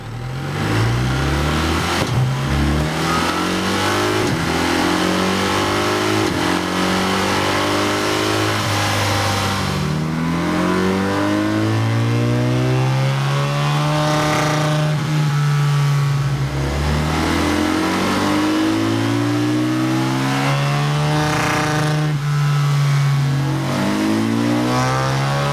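BMW R1300 GS motorcycle on a dyno with its stock engine map, revving hard through repeated rising sweeps and dropping back between pulls, loud and continuous for the whole stretch with no talking.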